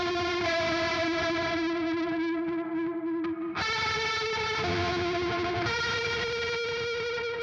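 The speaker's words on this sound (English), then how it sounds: "then it's also going into a chorus, hall reverb, and a phaser" A Mesa amp drives a heavily overdriven electric guitar through chorus, hall reverb and phaser, producing a loud, dense, sustained chord wash. It briefly dips near the middle before a fresh strike, then keeps ringing thickly with no voices.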